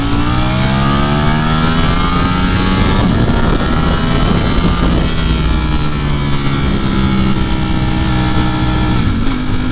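A 2020 Ducati Streetfighter V4 motorcycle with its stock exhaust roars loud and close, its engine note climbing and falling through several revs, with wind buffeting the microphone and no talking.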